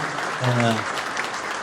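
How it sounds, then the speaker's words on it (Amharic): Audience applause at a Christmas holiday celebration event, a short burst of clapping under a voice, with crowd noise throughout. "እስቲ ሞቅ ያለ ጭብጨባ።"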